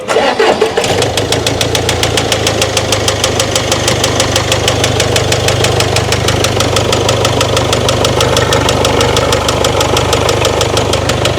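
An engine cranks and fires, then settles into a loud, steady idle with a rapid knocking rhythm. It is heard up close for about ten seconds, with no voices.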